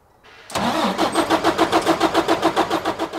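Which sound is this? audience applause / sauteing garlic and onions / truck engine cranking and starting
truck engine cranking and starting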